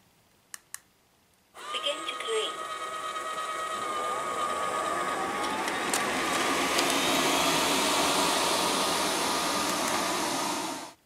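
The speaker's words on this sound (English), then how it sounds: "so let's see how well it vacuums them up." A Liectroux B6009 robot vacuum cleaner runs over crumbs on carpet with a steady whirring suction hum. The hum starts after a couple of faint clicks and holds loud and constant until it cuts off at the end.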